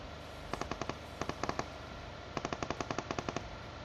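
Video game gunfire rattles in three rapid automatic bursts, each a quick string of sharp shots over a steady background hum, loud and close with no talking.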